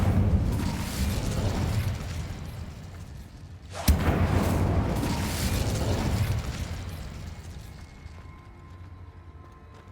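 The Incendio fire spell cast in Hogwarts Legacy: a rushing, roaring blaze with a sharp burst near the middle, then a flaring rumble that gradually fades away.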